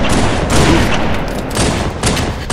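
Pistol fire from the Halo 3 video game comes as a loud, dense run of shots with a constant roar of game audio underneath and no pause across the short burst.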